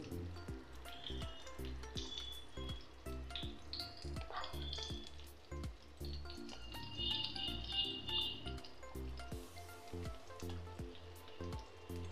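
Chicken leg pieces sizzle and crackle in a hot pan as they are sautéed, a steady frying hiss with occasional stirring, set beneath prominent background music.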